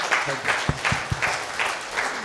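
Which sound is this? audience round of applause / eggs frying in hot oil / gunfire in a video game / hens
audience round of applause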